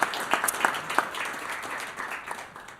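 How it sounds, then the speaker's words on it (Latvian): Audience applause at a research presentation on a knowledge-transfer study, a short burst of clapping that fades over a few seconds. "Aplausus lūdzu mūsu kolēģiem."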